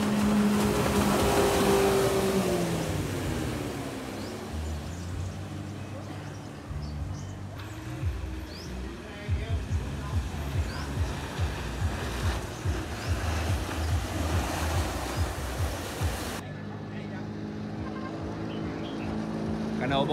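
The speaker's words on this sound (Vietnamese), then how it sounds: "Cano 4m9 cái động cơ là Mitsubishi 4D56 ha, 65 ngựa." A 4.9 m racing speedboat with a stock 65-horsepower Mitsubishi 4D56 engine drones and rumbles nearby, loud at first then fluctuating as it runs on the water, with people talking over it at times.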